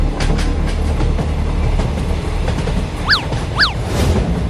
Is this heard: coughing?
no